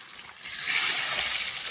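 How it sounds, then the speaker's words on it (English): Food sizzles in oil that is far too hot just after being flipped, a rising broadband hiss that swells and holds steady and close, with no talk. "Okay, the oil is definitely way too hot, so it's only been a couple minutes, but we're gonna flip it anyways."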